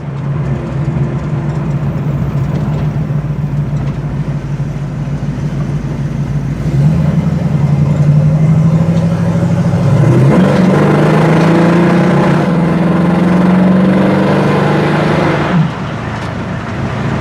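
A 1965 Ford Mustang pulls away under acceleration. The engine note is loud and steady from the cabin, and the pitch climbs after a gear change partway through, with a rising strain near the end.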